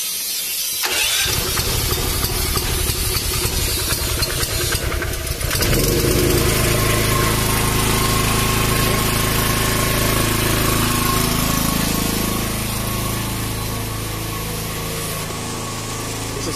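A DEKES 3500W gasoline generator cranks and catches, then settles into a loud, steady running drone with a low engine hum close by and no talking.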